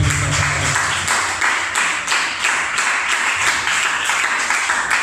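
A church congregation claps together through a Spanish-language service, with steady, dense applause filling the room from start to finish and a few faint voices mixed in.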